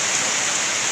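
Heavy typhoon rain in the Philippines pounds a pig pen roof, making a dense, loud, unbroken hiss with no pauses throughout.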